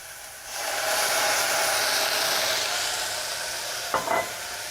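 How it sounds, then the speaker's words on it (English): Madeira and tomato puree with fresh thyme simmer in a pan, a steady close sizzle and hiss, with a couple of brief clinks near the end. "We'll let that simmer down."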